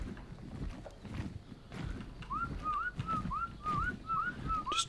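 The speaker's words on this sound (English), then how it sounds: "Just trying to whistle to make him follow me if he's around" A player whistles a repeated rising call in the survival video game Ark Survival on The Island, trying to summon a pteranodon; about eight short upward-sweeping whistles follow in steady rhythm over a low rumbling game ambience and footsteps.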